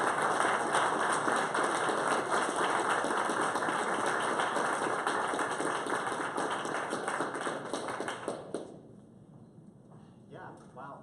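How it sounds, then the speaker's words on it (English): An audience at an Ember.js tech talk applauds speaker Max with sustained, dense clapping for about eight seconds before it cuts off abruptly, leaving a quieter stretch. "you all should clap for Max"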